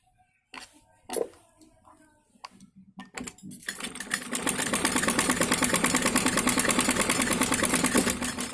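Faint clicks and handling lead into a steady, loud run of a sewing machine stitching another line on a kameez kurti, its rapid needle rhythm continuing to the end.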